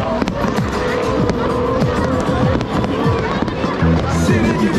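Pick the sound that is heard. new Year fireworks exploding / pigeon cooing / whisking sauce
new Year fireworks exploding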